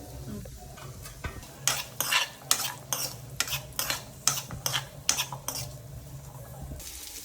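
Ginger and whole spices fry in a pan for a village-style mutton keema ball dish. A ladle scrapes in quick, rhythmic bursts over a low sizzle, close and fairly loud, then settles into quieter frying.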